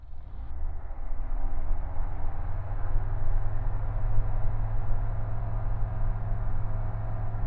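Light aircraft engine at takeoff from runway 05, a steady loud droning rumble with strong low-end tones held throughout, no voices.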